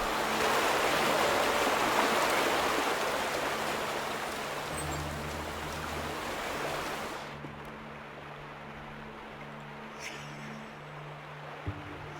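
Steady rushing of a flowing stream in the video game The Vanishing of Ethan Carter, loud and broadband at first, then thinning to a quieter trickle with a low hum beneath, no talk.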